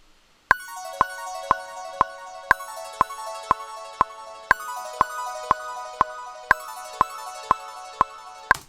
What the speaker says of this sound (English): So the retro harp, I've called it because it's sort of like how a harp would do arpeggios